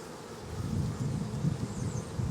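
Honey bees swarm over an opened beehive with a dense, continuous buzzing hum, close and steady, with no talking over it.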